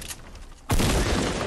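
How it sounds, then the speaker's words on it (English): A grenade explodes in the video game Fortnite, a sudden loud broadband boom that cuts in after a brief quieter moment and keeps rumbling to the end. "Oh, watch out, grenade!"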